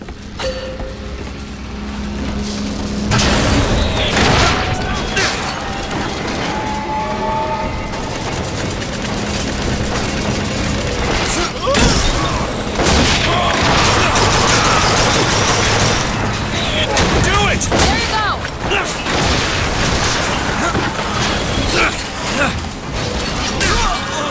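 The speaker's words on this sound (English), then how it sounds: "Rockets, watch out!" Rocket blasts and heavy gunfire in BioShock Infinite's 1999 Mode, loud repeated booms and shots crowding a chaotic battle, with a voice speaking over parts of it.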